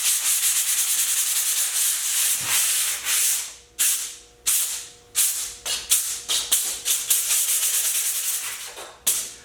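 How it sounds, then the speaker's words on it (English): Sandpaper scrubs across a painting surface in a studio, making close, loud, rasping strokes that start as one long pass and then break into a quicker rhythm of separate rubs. "I'm just gonna sand it down a bit and see if we can get like a smoother surface."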